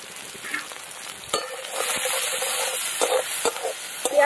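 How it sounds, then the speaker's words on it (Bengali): Chopped onion with salt frying in white oil in a kadai, a steady close sizzle with scattered crackles and a few stirring knocks, alone without talk. "পেঁয়াজটাকে একটু ভেজে নেব"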